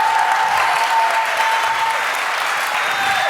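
Dense, continuous audience clapping in a theater during an onstage drama club talk show, steady and fairly loud throughout with no voices over it.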